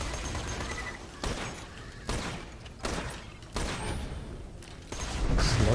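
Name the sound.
outlaw marauders firing shotguns in video game Borderlands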